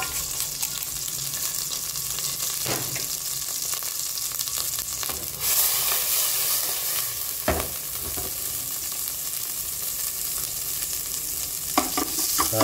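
Minced garlic fries in hot cooking oil, a steady sizzling that fills the whole stretch, with a few scraping stirs of a utensil in the pan and no voices.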